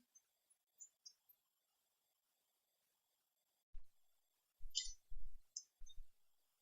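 Faint, sparse computer mouse clicks, a few soft ticks early on, then a louder cluster of clicks after a pause, close and dry in a quiet room.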